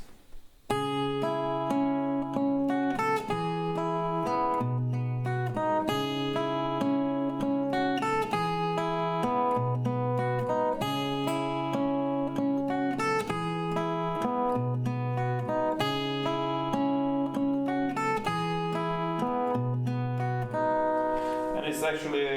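An acoustic guitar plays a song at standard tempo, a steady repeating chord and riff pattern cycling for about twenty seconds, close and clear without talking.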